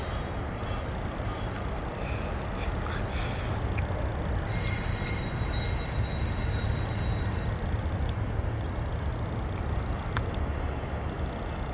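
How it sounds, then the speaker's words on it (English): A freight train rolls past with an SD70ACU distributed power locomotive, a steady loud rumble of wheels and cars with faint metallic squeals and clanks throughout. "here comes his DPU, alright, and it is an SD70 ACU"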